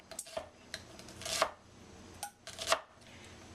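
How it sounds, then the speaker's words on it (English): A knife chops shallots finely on a cutting board in a home kitchen, with close, crisp bursts of rapid cuts separated by short pauses and no talk. "Be careful you don't cut yourself when you're chopping."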